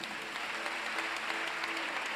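An audience applauds steadily, a dense wash of many hands clapping at moderate volume without pause.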